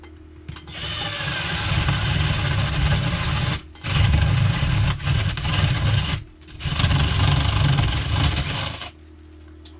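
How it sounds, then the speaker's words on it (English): A Sawzall reciprocating saw cuts an opening in a shed wall for an air conditioner, with three loud, buzzing bursts of rapid blade strokes separated by brief pauses, heard close up with no talking. "Then I get the Sawzall and cut it out."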